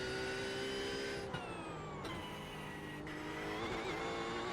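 A GT4 race car heard onboard at the Charlotte Roval, its engine holding a loud steady whine that drops sharply at three gear shifts, with a faint tyre squeal mixed in.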